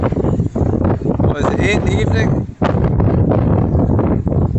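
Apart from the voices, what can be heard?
strong wind at the coast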